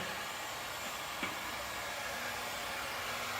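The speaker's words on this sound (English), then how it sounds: "Now I'm taking the heat gun and I'm just a couple inches away." A heat gun blowing hot air a couple inches from opaque window film during installation, giving a steady, even whooshing hiss that runs unbroken throughout, with one faint tap near the middle.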